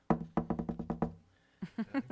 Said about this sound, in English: Knocking on Hammond's door there